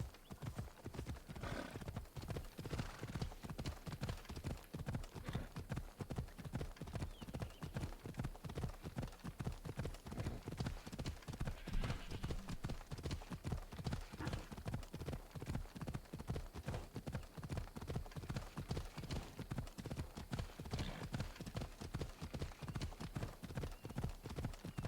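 A horse gallops steadily through an ancient Greek landscape, its hooves pounding in a fast, even rhythm for the whole stretch, close and continuous with no talk.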